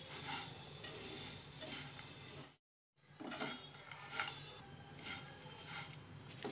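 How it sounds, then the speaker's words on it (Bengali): Roasted poha (chire bhaja) being mixed in a pan, repeated scraping and clinking of a utensil against metal, close, with a brief silent break partway through. "ভালোভাবে মিশিয়ে নিচ্ছি"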